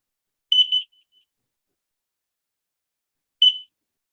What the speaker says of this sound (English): It sounded a carbon monoxide alarm with three beeps that were intermittent